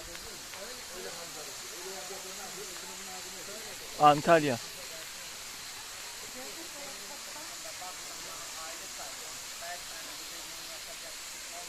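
Kurşunlu waterfall near Antalya pours in a steady, broad rushing roar that fills the whole clip, with a short burst of a voice speaking partway through.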